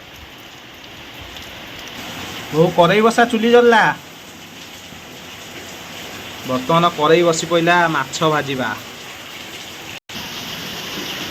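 Heavy rain falls steadily on a rural home's roof and yard during monsoon rain, a constant broadband hiss running throughout while people talk in two bursts over it.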